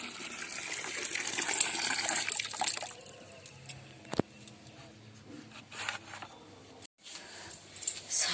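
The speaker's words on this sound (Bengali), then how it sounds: "জল ভরে গেছে।" Water pours and gushes into a container from a tap indoors, a close splashing fill that surges early then thins into trickles and drips, with a brief break near the end.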